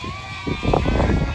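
A single short sheep bleat from a flock being moved to pasture on a farm, loud and close, swelling in its last half.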